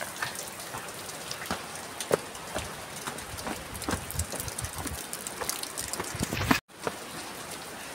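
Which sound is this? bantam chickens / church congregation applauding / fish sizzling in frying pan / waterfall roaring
waterfall roaring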